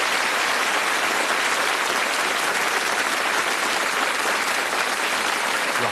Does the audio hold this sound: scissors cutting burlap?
no